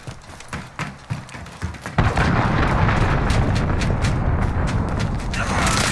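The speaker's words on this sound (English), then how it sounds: "Allied cruise missile away." An allied cruise missile launching in a combat game, a sudden loud roaring burst after scattered thuds and booms, sustained dense rumble continuing for several seconds.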